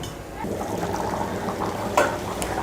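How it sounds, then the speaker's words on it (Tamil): A pot of kurma curry bubbles and simmers steadily with soft popping and gurgling, close by, with a brief clink partway through. "குருமா நல்லா கொதிக்குது."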